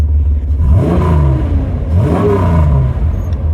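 A 1973 Datsun 240Z engine revs up twice in close succession, each climb and fall rising from a steady low idle, loud and near with no talking.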